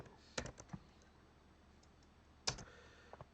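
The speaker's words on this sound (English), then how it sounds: "So I'm going to type that one in here." Keys clack on a computer keyboard in a quiet room, two short bursts of quick taps separated by a pause, close and fairly soft.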